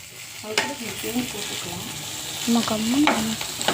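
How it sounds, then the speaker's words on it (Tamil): Food sautés with salt and tamarind in a pan, with a soft frying sizzle under repeated stirring and scraping, while a person talks over it. "உப்பு போட்டு புளி போட்டு நல்லா வதக்கிக்கலாம்."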